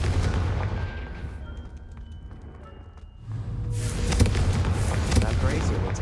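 A Confringo blasting spell in Hogwarts Legacy bursts with a sudden loud explosive whoosh after a quieter stretch of ambient game sound, followed by crackling rumble.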